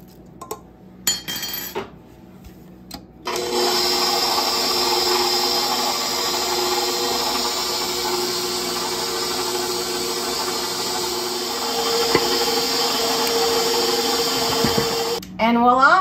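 An electric mixer whirs steadily at close range as carrots are mixed into carrot cake batter, a continuous motor hum lasting most of the stretch and stopping near the end, framed by clinks of bowl and utensils before and after.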